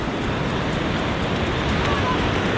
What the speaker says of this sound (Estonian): Seal ei ole nii suured lained.